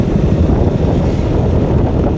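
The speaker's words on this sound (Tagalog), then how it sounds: "Ang lakas ng hangin." Strong wind roars loudly and continuously, buffeting the microphone with a dense, rushing noise.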